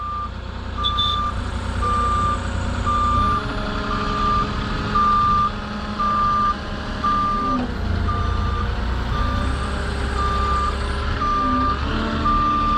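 Reversing alarm on a truck driving backwards, beeping in a steady, evenly spaced series over a constant loud engine rumble, with no talk.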